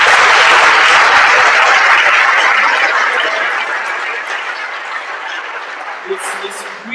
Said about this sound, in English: Let's give them a round of applause for their hard